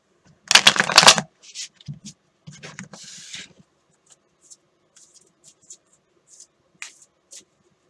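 Tarot cards are shuffled by hand in a quick, loud riffling burst, then a string of softer, sparse card slides and taps, close and clear.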